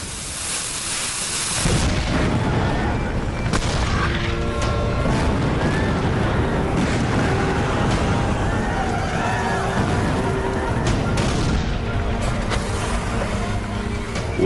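Union cannons fire at the Battle of Gettysburg as a documentary effect, a deep rumbling roar that swells in after a quieter opening and then stays heavy and continuous, with scattered booms and crackles layered through it.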